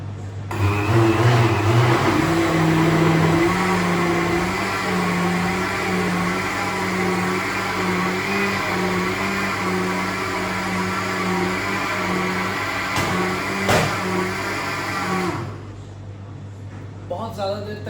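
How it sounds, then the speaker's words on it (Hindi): Countertop blender running continuously at high speed, whirring a cheesecake mixture for about fifteen seconds before it stops, loud and steady with a strong motor hum, no talking over it. "इसे मैंने ब्लेंडर पे डाल दिया"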